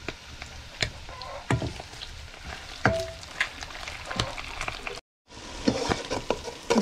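Blended cilantro browning in a pan while being cooked for seco de cuy, giving a steady sizzle with scattered scraping and stirring knocks, a brief silent gap, then more sizzling and clatter.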